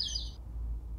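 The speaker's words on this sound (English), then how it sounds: "I hear a bird." A bird gives a short, bright chirp in the opening moment, faint and distant, then only a low steady hum remains in a room during a live escape-room game.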